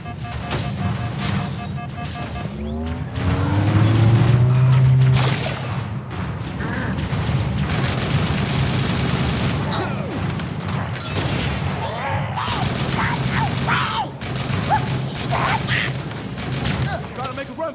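Rapid bursts of gunfire and booming impacts in a Halo combat scene, loud and dense throughout, with a voice talking over the shooting.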